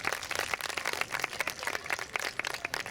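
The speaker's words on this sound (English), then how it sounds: "Round of applause to Ryan." An audience at a youth pilgrimage talk claps in applause, a faint, dense patter of many hands continuing steadily throughout.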